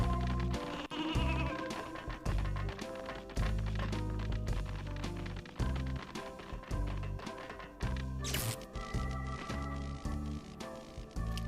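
Sheep bleat in the video game Space Station Silicon Valley, mixed into loud, rhythmic game music with a thumping beat and layered tones that play without pause throughout.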